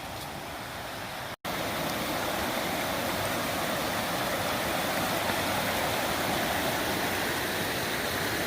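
A stream swollen with fresh rainwater on the Company Mill Trail in Umstead State Park, Raleigh, rushes in a constant close broadband roar, broken only by a brief dropout near the start, with no speech.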